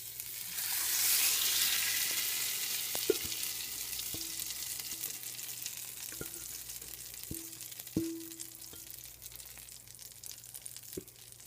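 Chicken fries in hot oil in a pan, a broad steady sizzle that swells early and then settles, with a few scattered clicks and knocks of utensils against the pan.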